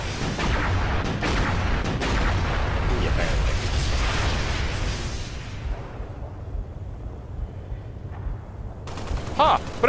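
Gunfire in the video game Halo Reach, a dense and loud barrage of shots and blasts that thins out after several seconds, with voices talking over it.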